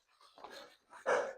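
Dogs at an abandoned computing center give two short, rough barks a moment apart. The second is louder, and both sound fairly faint and somewhat distant.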